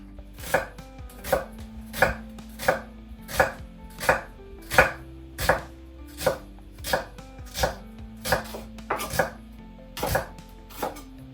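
A knife chops a shallot into thin slices on a board, about twenty crisp, evenly spaced cuts in a steady rhythm, close and clear with no talking.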